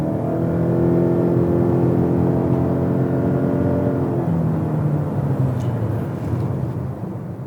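A Lexus NX 300h 2.5 hybrid F Sport Executive's engine howls loudly at high revs, a steady droning whine that holds and then slides lower, giving a slipping rubber-band feel with little gain in speed.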